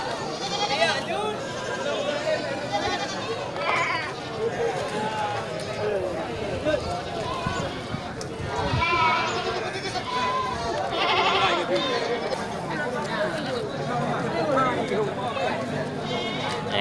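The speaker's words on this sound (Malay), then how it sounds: "Nah ini kambing-kambing bandot ya, bandot super ini masih sangat-sangat muda ya." Young bandot goats bleat repeatedly at a busy goat market, their calls rising in bursts over steady crowd noise and near talk from someone speaking throughout.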